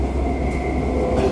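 Dubai Metro train running between stations, a steady loud rumble with a constant hum and faint rail noise, no voices.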